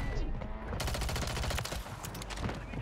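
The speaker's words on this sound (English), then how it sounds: "I'm getting shot at by everybody" Dense, rapid gunfire from many weapons at once fills a round of Call of Duty Warzone on Rebirth Island, loud and continuous, with shots cracking close by and barely any pause.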